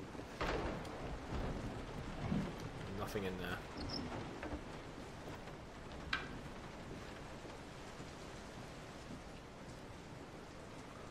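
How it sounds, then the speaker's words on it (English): Steady rain falls throughout a Resident Evil 7 game scene, with a few dull rumbles that may be thunder, while someone talks over it at close range. "Oh, it's raining."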